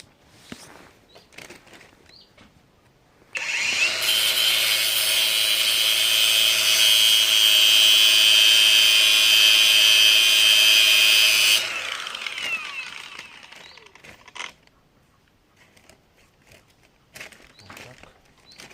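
Angle grinder run against material while trying to light a campfire: a loud, steady high-pitched whine for about eight seconds, then winding down, with quieter rustling and handling noises before and after.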